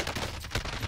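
Gunfire in Call of Duty Warzone, a short burst of rapid shots at moderate level, with no talking.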